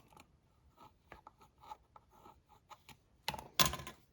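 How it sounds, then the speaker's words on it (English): Pencil marking a plastic drain pipe at a sink drain: faint, short scratchy strokes in an irregular sequence, ending in a couple of louder rubbing scrapes close up. "make a mark on it with a pencil"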